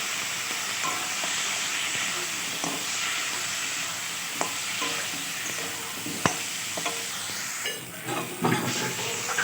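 Spice paste with salt, turmeric and a splash of water frying in a pan for a raw banana kofta curry, a steady close sizzle with intermittent stirring scrapes and clinks throughout.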